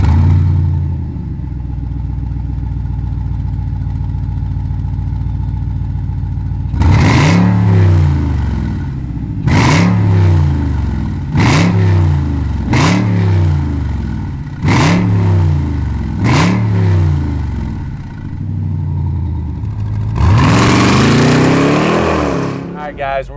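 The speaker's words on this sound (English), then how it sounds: "we got some modified exhaust on this Durango Hellcat." Modified exhaust on a 2021 Dodge Durango Hellcat SUV idles low, then barks through a series of about seven sharp, loud revs, each rising and falling, ending with a longer sustained blip; close and dominant.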